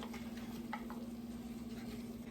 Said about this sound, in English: I'm gonna add this bacon.